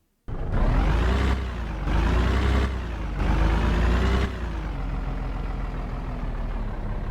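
A tractor engine in a Unity NWH Vehicle Physics game test starts abruptly and idles loudly. It revs up in three surges before settling into a steady rumble, with no talking.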